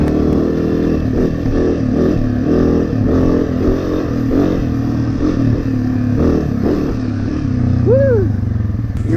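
A trail motorcycle runs over bumpy terrain, its engine loud and close throughout with steady revving and some clatter, and the pitch swoops upward near the end.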